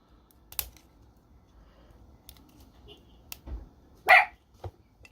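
Dogs barking indoors, set off by slamming doors, in a few short, sharp barks, the loudest one near the end, with scattered light clicks and taps in between and no talk.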